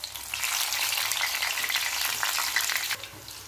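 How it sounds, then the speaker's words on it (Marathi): Slit green chillies fry in hot oil on low gas, a steady close sizzle and crackle that holds evenly before easing off near the end. "गॅस कमी करायचा आणि ही मिरची तळून घ्यायची"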